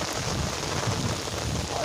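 Heavy rain pours outdoors after more than a week of daily downpours, a dense, steady broadband hiss with a low rumble underneath. No one speaks.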